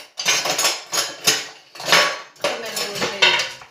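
A metal spoon stirs beef stew with chunks of bourguignon-style beef in red wine inside a pot, giving repeated scraping clanks in uneven bursts, close and fairly loud, with no talking.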